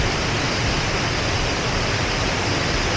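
Mumbuluma waterfall in Mansa pours with a dense, continuous roar, loud and close for the whole stretch with no voices.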